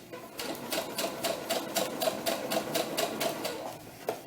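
A sewing machine stitches a doll tunic in a quick, even rhythm of close, moderately loud mechanical pulses for a few seconds, then slows and stops.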